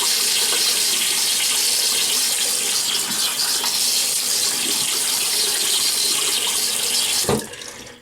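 Tap water runs hard into a sink while a bearded face is wetted before shaving, a loud, close, steady rush that cuts off abruptly near the end with a small knock.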